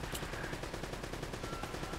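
Rapid gunfire in the video game Uncharted: Drake's Fortune, a dense run of shots packed close together across two seconds, loud and continuous with no talk over it.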